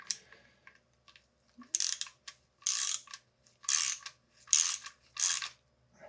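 A bolt on a FOX DHX2 Factory Series shock being tightened with a 15 mm socket and ratchet: several quick bursts of close, crisp ratchet clicking separated by short pauses.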